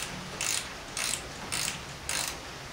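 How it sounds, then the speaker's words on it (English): A GearWrench ratcheting wrench works 10mm fan shroud bolts on a 2008 Chevrolet Trailblazer, making four evenly spaced, crisp clicking bursts close by. "I got another gear wrench here."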